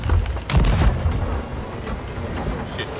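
Heavy booms of cannon fire during a naval battle between ships in a video game, with two loud blasts close together near the start and rumbling fading afterward, no voices.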